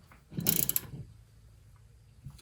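A wrench tightening front suspension bolts on a 1975 Triumph TR6, a short close burst of metallic ratcheting clicks lasting under a second, followed by a quiet background with no talk.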